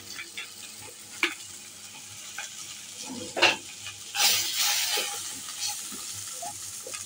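Lote fish with cumin, coriander and chilli powder being sautéed in a pan, a steady close sizzle with scraping stirs throughout and a brief louder surge of frying about midway.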